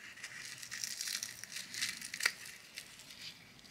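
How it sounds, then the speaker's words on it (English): Thin plastic wrap being peeled off a Sugru-made custom toy helmet, a faint crinkling, crackling rustle that runs continuously with small sharp snaps. "So I can peel the plastic wrap off"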